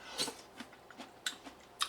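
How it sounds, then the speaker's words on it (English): Crunchy cooked celery from a homemade alphabet vegetable soup being chewed, several soft crisp crunches in an uneven rhythm, close and quiet with no talking. "Celery has a little crunch."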